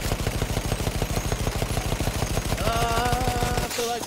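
Rapid machine-gun fire in the video game Battlefield 1, a dense steady rattle of shots throughout, with a tonal whine rising near the end.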